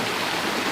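Steady broadband rush of a waterfall in the tropical rainforest of Mindoro, Philippines, a dense continuous wash of falling water heard close and fairly loud, with no voices.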